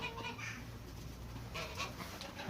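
Chickens in a coop clucking softly, a few short calls and murmurs close by over low background noise, with no speech.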